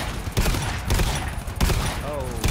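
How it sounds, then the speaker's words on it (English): Bursts of gunfire ring out in the co-op horror shooter GTFO, a few loud, rapid volleys spread across a couple of seconds amid game noise and brief player voices. "Oh, they're shooting stuff at us."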